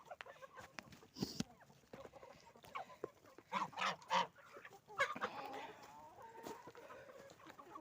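Geese and chickens in a farmyard at feeding time, with repeated honks and clucks coming from several birds at close to middle distance, in bursts of varying loudness.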